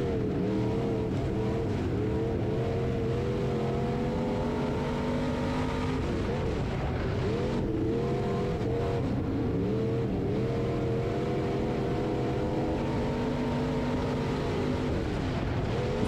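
A B Mod race car at Springfield Raceway in Missouri drones steadily, its engine rising and falling as it laps the dirt oval, the roar close and continuous with other race cars around it.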